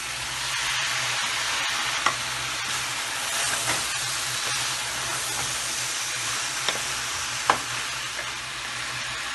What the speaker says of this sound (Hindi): अब इसमें डालेंगे हम टमाटर।